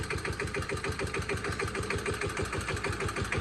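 A modified single-cylinder engine burning used engine oil as fuel, rebuilt to drive a field water pump, chugs steadily close by in an even, fast repeating beat with no talking.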